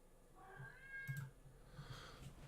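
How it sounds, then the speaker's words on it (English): A house cat meows faintly indoors, a thin rising call followed by softer mewing, low in level against a background hum with quiet thumps. "You needy cat."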